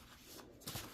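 A tarot deck being shuffled, with soft papery riffling that grows louder and denser toward the end of the short burst, close to the mic and with no talking.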